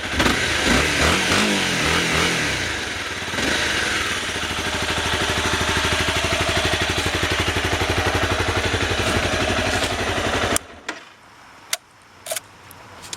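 A close 2013 Honda CBR250R motorcycle engine runs loudly, its pitch rising and falling with throttle blips, then cuts off, leaving a few clicks and clunks.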